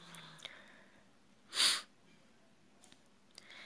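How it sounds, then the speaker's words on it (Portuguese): A single sharp sniffle from someone with rhinitis stands out loud and close against a quiet room, with a few fainter breathy sniffs around it. "vocês vão perceber que eu tô fungando assim um pouquinho"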